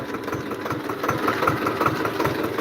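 A tractor engine runs on a sugarcane farm for pesticide spraying, idling with a steady mid-to-low rumble and an uneven, knocking pulse. It is heard alone, with no talk.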